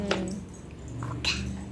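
A toy dog coin box gives out two short electronic barks, one near the start and another about a second later, close and fairly clear over a low steady hum.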